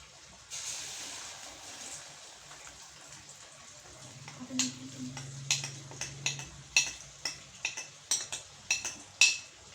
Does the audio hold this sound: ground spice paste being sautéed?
yes